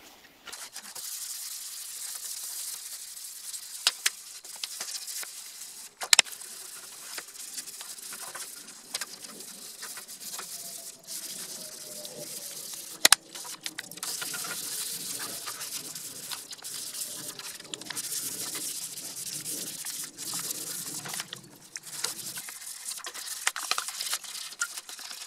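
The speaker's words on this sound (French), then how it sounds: "Et voilà, premier ponçage" Hand sanding on the front skirt of a BMW E30 gives a steady, close scratchy rubbing that carries on for the whole stretch, with a few sharp knocks along the way.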